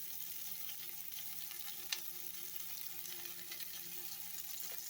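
Chopped onion and ginger sautéing in a pan for a chutney, a steady soft sizzle and frying crackle with faint stirring, heard alone and fairly quiet throughout.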